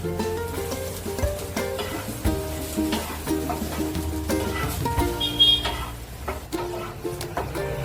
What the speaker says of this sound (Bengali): খেজুর দিয়ে আমি এগুলোকে একটু নেড়ে নেব।